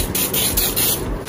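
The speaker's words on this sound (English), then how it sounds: "I'm just going to spray down" Cooking spray hissing onto a baking tin for a banana coffee cake, a short steady close spray burst lasting just over a second.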